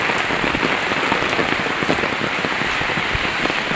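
Heavy rain pouring down steadily, a dense, loud hiss of drops hitting surfaces close by, continuous and unbroken with no talking.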